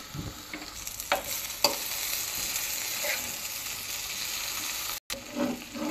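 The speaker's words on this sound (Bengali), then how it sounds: "ডালটা বাগার দিয়ে নেব, ফোড়নও বলতে পারেন।" Whole spices sizzle in hot mustard oil to temper dal, a steady close frying hiss with occasional sharp clicks of stirring and a brief cut near the end.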